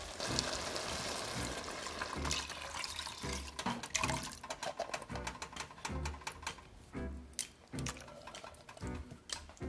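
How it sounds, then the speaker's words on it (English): Beef broth, canned tomatoes and marinara sauce go into a soup pot, a run of uneven liquid splashes and pours with clattering knocks from cans or utensils, fairly faint. "now I am going to add my beef broth and my can of tomatoes and my marinara sauce"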